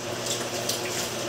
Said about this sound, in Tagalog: So mag-add po tayo ng kunting tubig pa para tuluyan na talaga siya lumambot.